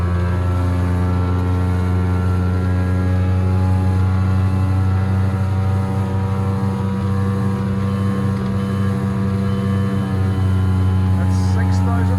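A Trophy 1802 WA boat powered by a Mercury 115HP OptiMax outboard runs at full speed, giving a loud, steady, droning engine hum mixed with wind and water rush that holds constant throughout.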